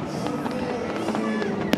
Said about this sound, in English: some copper, some more blue and pink, a classic blooming firework